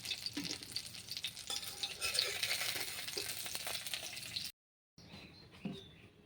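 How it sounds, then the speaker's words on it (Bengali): Prawns frying in oil in a wok, a steady close crackling sizzle with stirring scrapes that cuts out briefly near the end, then resumes more quietly. "মাছ কড়াতে দিয়ে দিয়েছি। এবার ভেজে নিব মাছগুলো।"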